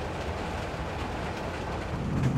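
A train rolling past with a steady, dense rumble and rush throughout, fairly close and even in level, swelling slightly toward the end.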